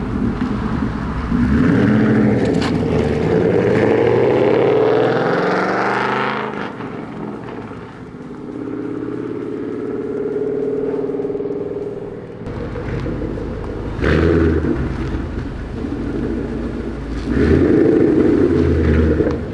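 A Ford Mustang GT on a test drive after a wheel change, engine droning steadily with rising and falling pitch as it accelerates and shifts, loud and close throughout with a brief lull midway.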